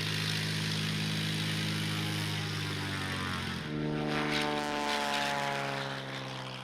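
Light propeller aircraft flying over the Rift Valley in Kenya: a steady droning engine and airscrew hum, heard from close by and continuous, shifting slightly in pitch midway with wind rush over it.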